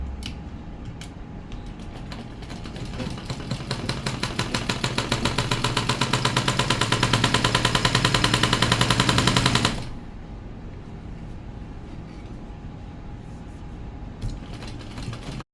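A sewing machine runs a steady, rapid stitching burst on ladies' pants fabric for about ten seconds, loud and close, then stops, leaving quiet room tone with a few small handling clicks.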